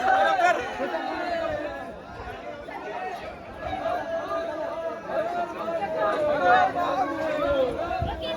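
Dense crowd chatter from many voices at a busy group picnic outing, a steady hubbub of overlapping talk and shouts with people hurrying past, fairly loud and close throughout.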